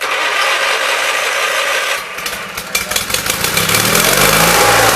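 A Lincoln engine-driven welder's engine running at high idle, first a loud steady roar, then a brief dip and sputter before it surges back up to a strong, sustained near drone.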